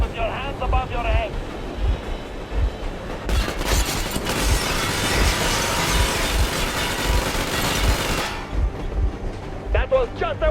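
Machine gun warning shots in the Metro Exodus game, a dense sustained burst of rapid gunfire for about five seconds over a rumbling engine and wind, with a voice speaking before and after.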